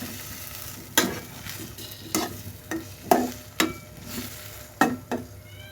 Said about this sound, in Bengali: অল্প পরিমাণে জল দিয়ে রান্না করে নিতে একটু কষিয়ে নিচ্ছি